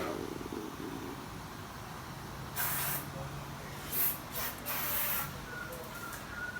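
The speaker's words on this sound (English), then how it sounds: "Spray this here." Several short hissing bursts of aerosol spray, a few seconds apart, over steady background noise, sprayed onto a rusty 1959 VW Beetle engine.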